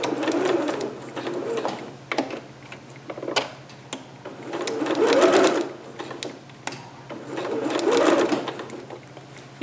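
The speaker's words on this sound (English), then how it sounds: "You can actually baste this and then stitch over it again if you want." A sewing machine stitching a dress in a cap-sleeve pattern, close and clear, running in three long whirring bursts separated by short pauses and a few clicks.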